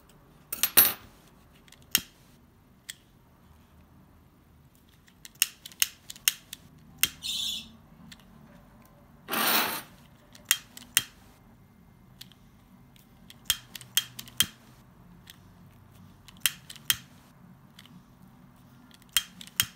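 Scissors snipping organza ribbon for a goose-foot ribbon lace flower, giving many crisp, close cuts in irregular bursts with quiet gaps between them and no talk.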